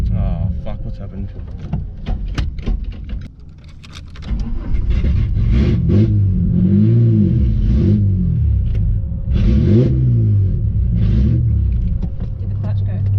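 Budget drift car engine revving hard and rising and falling in pitch as its clutch fails, loud and close throughout, with brief voices in the background.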